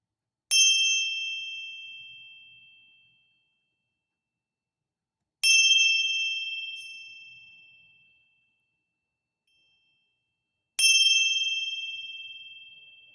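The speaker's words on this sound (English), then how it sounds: "I'm gonna ring this bell 3 times." A bell struck three times, each ring a clear, bright metallic ding that sustains and slowly fades over several seconds before the next, with silence in between.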